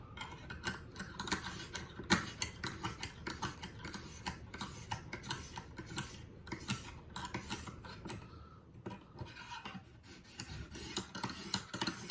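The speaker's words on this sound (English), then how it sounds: "This is still the 600 grit." A knife is drawn across a 600 grit stone on a Lansky sharpening system in quick, repeated light passes, each a close, crisp metallic scrape, continuing with brief pauses and no voice.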